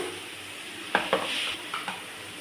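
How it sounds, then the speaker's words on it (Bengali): A spatula stirring ground chilli and cumin paste with salt in hot oil, a few distinct scraping strokes over a soft steady sizzle, close and alone. "এখন সব আমি এগুলো কষাবো, কষাতে কষাতে একদম যখন তেল বেরিয়ে যাবে তারপরে মাছ দেবো।"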